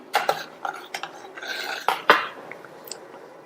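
Spoon stirring cabbage soup in a pot, with pepper just added, before a simmer: a series of light scraping and clinking taps against the pot, irregular and close, with no talking.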